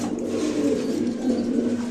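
Pigeons at a pigeon seller's coo continuously and close by, a steady low rolling murmur with no pauses over the whole stretch.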